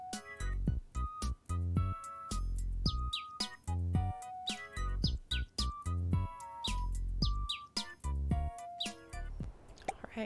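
Cartoon canary in the rhythm video game Bits & Bops gives short bright chirps and tweets in timed bursts over a bouncy musical backing, the calls recurring in regular rhythmic phrases throughout.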